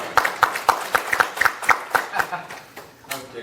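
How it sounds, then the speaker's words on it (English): A short round of applause breaks out at an audit committee meeting. It sounds like a few people clapping in an even rhythm, close by and fairly loud, and the claps fade out toward the end. "Let's give a round of applause."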